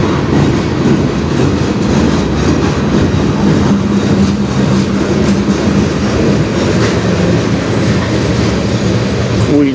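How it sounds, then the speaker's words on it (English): A CN train rolls past on the Strathroy Subdivision, loud and close, its railcars rumbling and clattering steadily over the rails throughout. "Still trying to figure out what train this is."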